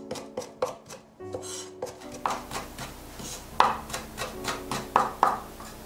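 A knife chops green onions on a cutting board in a steady series of about fifteen sharp, close thuds, evenly paced and clearly audible with no talk.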